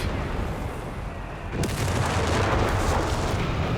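BL 5.5 artillery barrage in Company of Heroes 3, a dense rumbling wash of booms and gunfire that grows louder partway through, with almost no talk over it.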